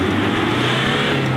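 A buggy fitted with tank tracks revs hard, its engine roaring loud and steady at close range throughout, with no pauses or voices.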